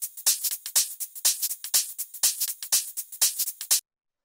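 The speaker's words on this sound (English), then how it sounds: "we have this the hi-hats and the shakers, which sound like this." Layered hi-hats and shakers from a chill house groove tick in a steady, bright, crisp rhythm for nearly four seconds, then stop abruptly.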